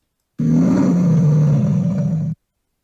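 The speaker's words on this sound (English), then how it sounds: "A lion roaring." A lion lets out one loud, sustained roar lasting about two seconds, deep and close, starting and stopping abruptly with silence around it.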